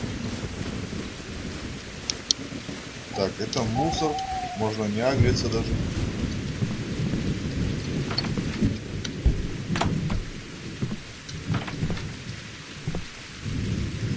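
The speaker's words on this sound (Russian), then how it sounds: "Сейчас дождь пойдет." Rain and thunder in the post-apocalyptic survival game Survival Postapocalypse Now: a steady patter of rain with deep rolling thunder, while someone talks over it.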